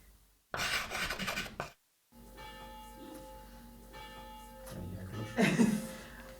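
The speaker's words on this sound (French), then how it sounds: "La cloche? La campana." A church-style bell rings with a sustained, humming tone that lingers, broken by a rasping, scraping noise and a brief silence, with faint voices in the background.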